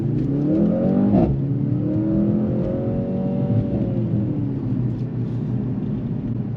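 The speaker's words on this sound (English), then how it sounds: "nice sounding engine in this C63S" A 2024 Mercedes-AMG C63 S E-Performance sedan engine revs loudly and close by, climbing in pitch then holding a steady droning rumble before easing off, with no talk over it.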